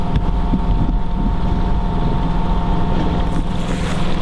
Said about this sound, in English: Noisy all old motorboats any time in the morning